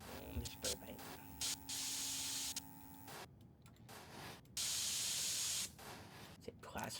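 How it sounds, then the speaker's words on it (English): Bursts of spray paint hiss as a PC case is painted in the game PC Building Simulator 2, with short and longer sprays, some clicks, and a steady tone under the first bursts. "Let me spray paint."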